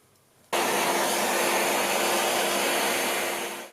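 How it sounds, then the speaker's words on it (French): A vacuum cleaner switches on abruptly and roars steadily while cleaning out an old 1930s tube radio, a loud close whooshing hiss that winds down at the end. "Donc là, je vais encore mettre un coup d'aspirateur."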